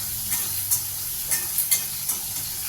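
Vadagam, sun-dried seasoning balls, are sautéed over a low simmer for pirandai kuzhambu, with light steady hissing and several quick, close scraping stirs of a spatula against the pan.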